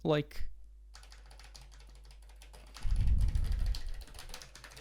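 Typing on an Amstrad keyboard fitted with Alps switches gives a run of sharp, clacky keystrokes, heard close and fairly loud, with a burst of quicker presses partway through.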